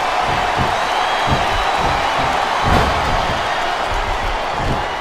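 Arena crowd in the wrestling video game Smackdown vs Raw 2007 roaring steadily, with rhythmic thuds of ring impacts and a swell of cheering partway through.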